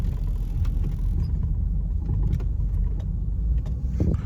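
A faulty car engine runs with a steady, loud, low rumble that stays continuous throughout, with no talk over it.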